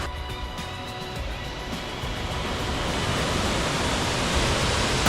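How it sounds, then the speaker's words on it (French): A waterfall in Switzerland, heard as a steady broadband rushing roar that builds slightly louder over a few seconds, without any speech. "Ah voilà, la cascade."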